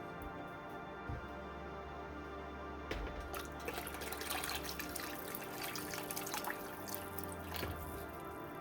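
Water running and dripping into a pot while a deer skull is boiled with dish soap, faint steady trickle with scattered drips and splashes, a little busier in the second half.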